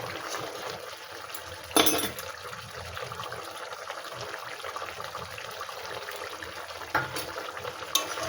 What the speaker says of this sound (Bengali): এইবারে এর মধ্যে দেব আমি একটু সাদা সর্ষে আর তিল বাটা একসঙ্গে বেটেছিলাম, দিয়ে দিই।